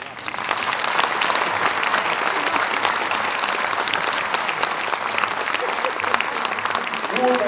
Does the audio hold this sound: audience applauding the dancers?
yes